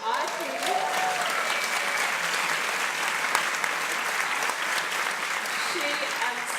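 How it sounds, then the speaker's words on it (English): Audience applause at a conference, a steady wash of clapping that fills the room and holds evenly throughout. "she absolutely deserves a round of applause"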